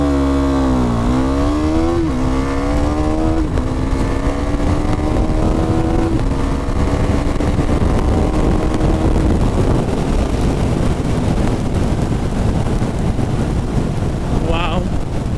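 A 2018 KTM Duke 390 motorcycle accelerates hard on an empty road, engine pitch rising steadily through the gears amid heavy wind rush, loud and continuous throughout.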